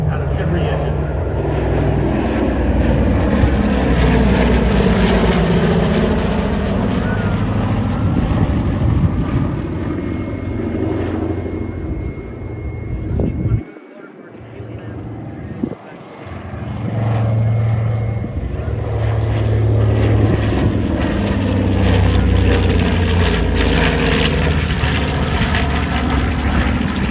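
A Boeing B-29 bomber with four Wright 3350 engines, each rated at 2,200 horsepower, drones loudly overhead at an airshow, a sustained propeller roar that briefly drops out midway before swelling back, with an announcer talking over it.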